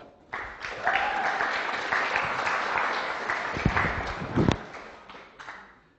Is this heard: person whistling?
no